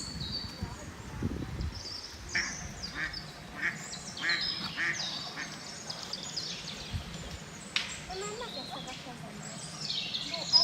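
Ducks being fed by hand at Alte in the Algarve quack in short, scattered nasal calls, close and overlapping, while people talk nearby.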